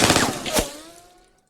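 Gunfire in the digital board game Lock 'n Load Tactical: a quick, loud burst of automatic shots followed by a ringing tail that fades out over about a second.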